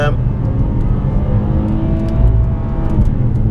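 An Opel Insignia VXR accelerates with a manual paddle upshift, the engine note droning loud and close with a slight shift in pitch near the end.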